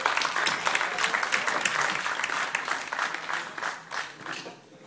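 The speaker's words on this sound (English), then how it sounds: "I would kindly ask you to clap the hands for Jörg Meyer" Audience at a bar symposium in Warsaw applauds for a champagne service host, a full burst of clapping that gradually thins and fades near the end.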